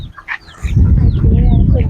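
A bantam chicken clucks close by in short, sharp bursts at first, then a steady low rustling and scuffling noise takes over.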